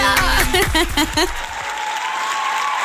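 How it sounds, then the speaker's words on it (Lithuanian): An audience bursts into loud applause with a few sharp rhythmic claps and scattered laughter over a musical sting, then settles into softer crowd clapping. "Aidi čia labai garsus tau aplodismentai"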